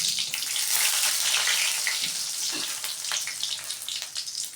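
Dried red chillies frying with urad and chana dal in hot oil for tamarind rice, a loud close crackling sizzle that holds steady and settles slightly toward the end, no talk.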